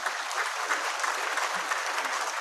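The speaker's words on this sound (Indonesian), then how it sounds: "boleh beri tepuk tangan." A large conference audience at a national working meeting breaks into sustained applause, a dense, even roar of many hands clapping.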